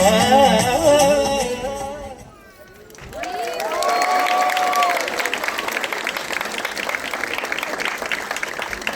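Kirtan singing fades out and gives way to a crowd applauding and cheering at an outdoor chariot festival after a youth dance team performs, with steady clapping and scattered voices rising above it.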